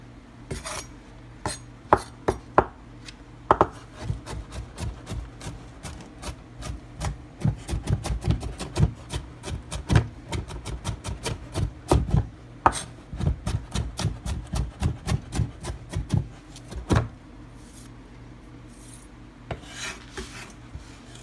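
Knife chopping onions on a cutting board for shrimp tostadas, a run of sharp, uneven taps that bunch into quick bursts and then thin out to scattered single strokes, close and clear with no talking.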